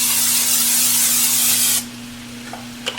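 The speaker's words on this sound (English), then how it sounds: "So I'm just going to spray that in there." Cooking spray hisses steadily into a pan for nearly two seconds, loud and close, then cuts off, leaving faint kitchen clatter and a low hum.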